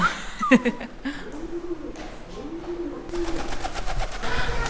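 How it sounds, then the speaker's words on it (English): Pigeons coo softly inside an echoing cave, with a brief flutter of wings early on and a faint steady hiss of dripping water and ambient noise. "The only noises in there are water dripping and the pigeons flying around."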